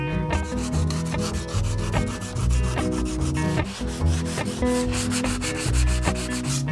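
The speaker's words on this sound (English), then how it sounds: "And finally, I'm giving the whole thing a light sand, both outside and inside" Light hand sanding on a wooden window frame, rhythmic rasping strokes repeating steadily and close, mixed with background music.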